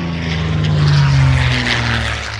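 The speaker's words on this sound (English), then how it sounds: "what appeared to be World War II fighter planes appeared overhead" World War II P-51 Mustang fighter planes pass overhead, a loud, steady propeller-engine drone with a low throbbing hum that swells toward the middle and eases slightly as they move on.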